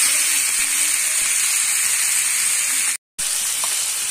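Capsicum frying in a pan for chilli soya makes a steady, loud hiss and sizzle. It carries on without a break apart from one short cut to silence.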